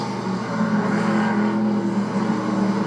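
NASCAR Truck Series pickups racing at the Navy 200, their engines forming a steady, loud, droning roar that holds close and unbroken throughout, with no talk over it.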